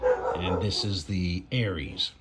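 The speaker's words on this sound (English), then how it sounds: "You can hear the dog in the background." A dog yips and whines in short, high barks, a few bursts close by, mixed with someone talking over it.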